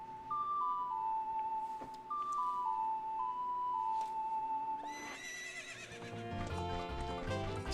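Epona, the horse from the video game Ocarina of Time, gives a clear neigh after a short ocarina melody. A brighter musical passage with clip-clop hoofbeats follows, all heard at a moderate level.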